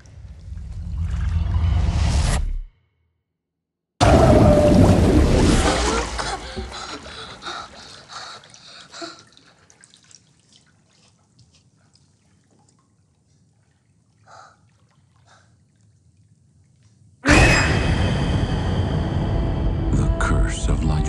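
Running water rinsing during a makeup session, a loud splashing gush that breaks off for a moment and resumes, then fades into near silence before another burst of water noise.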